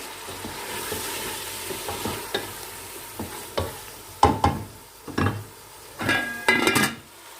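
Meat stirred in a pot with green chili and tomato for a pulao biryani, a spoon scraping at irregular intervals over a low sizzle, growing louder toward the end, with no talking.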